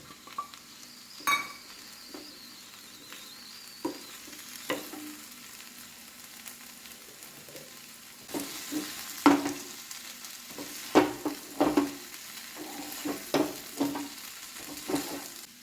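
An egg mixture fries in a pan, giving a faint, steady sizzle punctuated by irregular scraping and tapping as it is stirred, with the stirring growing busier toward the end.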